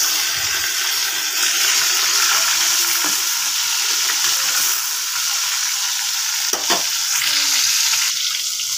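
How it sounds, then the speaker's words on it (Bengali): Fish turned to fry on its second side in hot oil, giving a dense, loud, continuous sizzle close by, broken by a couple of sharp utensil knocks. "আর এক পাশ ভেজে নেব ভালো করে।"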